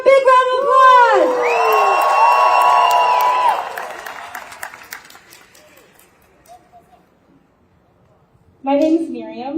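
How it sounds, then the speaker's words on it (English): Rally crowd at a Stand With Palestine gathering in St. Paul cheers with loud whoops and shouts over applause, the noise swelling, then fading to near quiet before a voice begins speaking. "Give her a big round of applause!"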